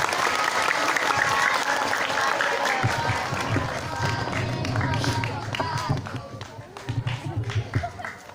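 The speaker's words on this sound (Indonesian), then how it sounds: "Kita beri tepuk tangan untuk Bapak Kepala Kantor Kementerian Agama Kota Padang" Applause for the head of the Padang City Ministry of Religious Affairs office fills a hall after his talk on religious moderation, dense clapping running throughout with voices over it, easing slightly near the end.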